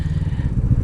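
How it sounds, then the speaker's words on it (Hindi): A motorcycle rides slowly over large speed breakers on a road, its engine a loud, close, uneven low rumble with clattering bumps throughout. "और एकदम स्लोली बाइक अपनी स्पीड ब्रेकर पे से गुजारनी पड़ रही है।"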